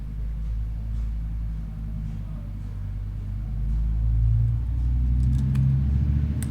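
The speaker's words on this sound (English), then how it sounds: "there's a lot of traffic noise outside" Steady low rumble of road traffic heard from indoors, with passing cars swelling slightly toward the end, a muffled continuous drone with no clear voices.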